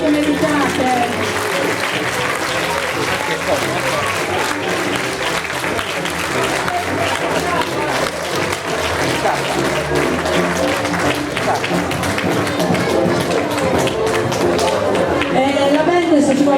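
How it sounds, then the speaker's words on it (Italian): Loud, dense audience applause at a carnival show for the couples on stage, sustained throughout with crowd noise, scattered thumps and indistinct voices mixed in. "prendetevi tutto l'applauso che meritate"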